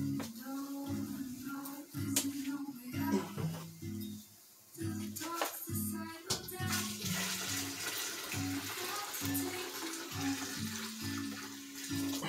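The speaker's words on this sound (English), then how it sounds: "I need to also add some more water." Water pours steadily into a wool acid-dye pot, a continuous running splash that carries through most of the stretch with brief dips, alongside a low recurring hum and a few faint clinks.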